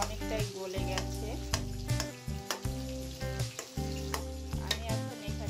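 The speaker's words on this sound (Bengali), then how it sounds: "পানিটা দেওয়ার পর আমি এখন সব কিছু হালকা ভালো করে নেড়ে নিচ্ছি।" Tomato curry with water is stirred in a frying pan, a soft bubbling sizzle punctuated by repeated clanks and scrapes of a spoon against the pan, close and fairly quiet.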